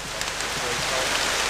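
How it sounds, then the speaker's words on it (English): Heavy rain pouring down in a rainforest, a dense, steady, loud hiss of water with no break, a faint voice underneath. "In the rainforest, it doesn't rain, but it pours. Buckets of it."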